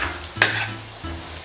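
Mutton masala with salt is sautéed in a pan for Chettinad-style mutton roast, a close, steady sizzle with one sharp scrape of a spoon stirring partway through.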